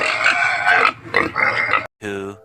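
A pig grunts and oinks in a run of nasal calls, loud and close, broken by a short pause before a final drawn-out squeal.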